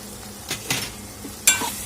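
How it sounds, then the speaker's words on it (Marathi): Chopped ridge gourd with crushed peanuts being stirred in a pan over low to medium heat: a few close scrapes and light metallic clinks of the spatula over a faint sizzle, with no talking. "आणि छान याला परत एकदा परतून घेणार आहोत आपण"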